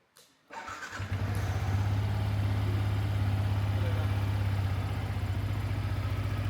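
A Yamaha MT motorcycle engine cranks briefly and catches, then settles into a steady, loud, close idle with an even low rumble.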